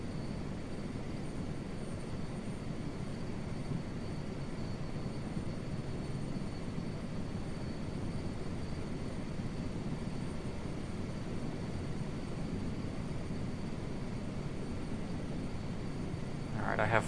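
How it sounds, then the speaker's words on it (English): Helicopter flying in Microsoft Flight Simulator 2024, a steady broadband rotor and engine rumble that runs unbroken and fairly loud, with a faint high whine above it and no speech. "I have full control over the helicopter, which is great."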